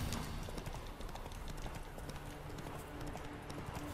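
Horse hooves clip-clop steadily while riding in The Witcher 3, a continuous rhythmic trot in the foreground over game ambience, with no talking.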